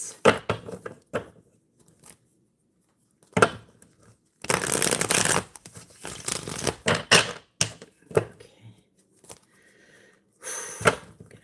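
Playing cards are shuffled in quick riffling bursts, close and crisp, separated by brief pauses and soft handling clicks.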